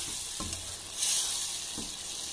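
Masala for dhaba-style egg bhurji frying in hot oil: a steady, close sizzling hiss, with a couple of soft stirring knocks from the spoon.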